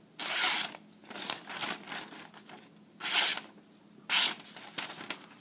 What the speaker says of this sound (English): Let's cut a little phone book paper.